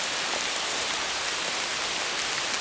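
Steady rain pours down outdoors near a river during a catfishing trip, a dense, even hiss that holds throughout with no talk over it.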